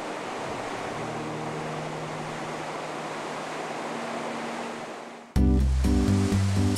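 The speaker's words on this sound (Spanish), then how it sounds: "el agua cae desde unos 60 metros salpicando y produciendo sonidos al golpear violentamente" Amidagataki waterfall in Gifu, Japan, water dropping about 60 metres and crashing violently, heard as a steady loud roaring rush close by, ending abruptly with a cut to louder, different sounds.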